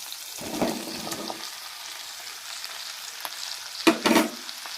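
Onions or spices are sautéed with salt in a pan for a bottle gourd chutney. A faint, low hiss runs underneath a few short bursts of stirring and scraping, the loudest near the end.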